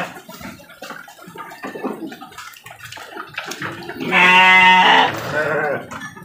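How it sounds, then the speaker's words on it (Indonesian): Goats on a livestock farm give a loud, harmonic bleat near the end, lasting about a second, after stretches of background chatter and farmyard noise. "Ini contoh-contoh kambing di sini."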